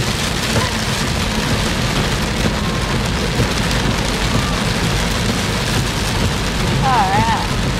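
Heavy rain pouring in Richmond, loud and close as a constant hissing wash, with a siren wailing briefly near the end as emergency vehicles pass.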